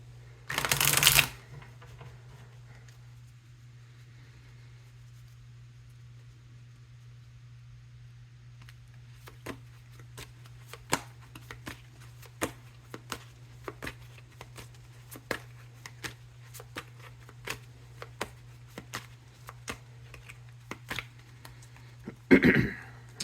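Tarot cards are shuffled in a quiet room, a run of soft riffling snaps spaced irregularly over several seconds, with brief louder handling noise at the start and end.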